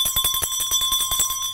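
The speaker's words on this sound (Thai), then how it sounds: "เขย่ากระดิ่งด้วย" A hand bell shaken in rapid, steady strokes, each ring bright and metallic with a sustained tone, loud and close with no voices over it.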